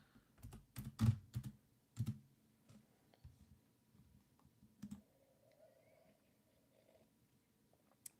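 Keys clacking on a computer keyboard in short irregular bursts, louder clusters early and sparser taps later, with no talk over them.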